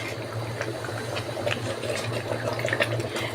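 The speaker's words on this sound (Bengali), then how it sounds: "সে গরম পানিটা আমি দিয়ে দিলাম এর মধ্যে।" Hot water pours into a pot of biryani rice, making a steady, moderately loud rushing and splashing stream that lasts the whole moment without any voices.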